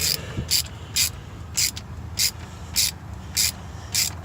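A ratchet clicks in short, evenly spaced bursts, about eight in a row, close up, as a plug is worked loose on a TH400 transmission in a Mustang.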